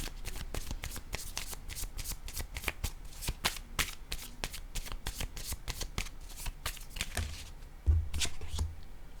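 A deck of emotion cards is shuffled by hand in a long run of quick, crisp riffling flicks that repeat steadily and close-up for several seconds, ending with a soft tap as the cards settle.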